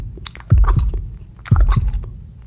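Close, loud ASMR chewing with two distinct wet crunching bites about a second apart, each followed by squishy mastication sounds, with no talk.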